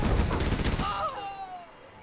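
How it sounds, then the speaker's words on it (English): A Gatling cannon in the Command & Conquer Generals Pro:Gen mod rattles off a dense burst of rapid shots, then the firing cuts out and a thin tonal whine fades away. "Gatling cannon is ready."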